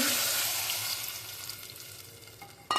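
A loud burst of sizzling as tamarind water hits hot oil, gradually settling into a quieter bubbling fry, with a brief clatter at the end.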